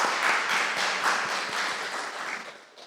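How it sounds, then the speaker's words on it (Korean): A church congregation claps in welcome during a Sunday service, a dense burst of many hands applauding at moderate distance that slowly fades. "우리 박수로 환영하도록 하겠습니다."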